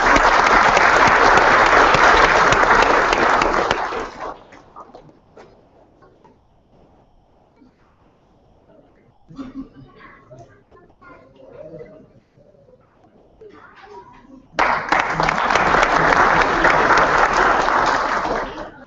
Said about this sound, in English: Please, ladies and gentlemen, give a big round of applause.